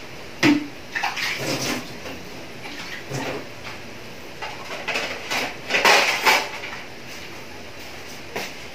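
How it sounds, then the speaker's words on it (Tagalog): Hands being washed under a running tap, with uneven splashes and rinsing bursts coming and going close by over a quiet room background. "Naghugas naman ako ng kamay, maghugas ako ulit."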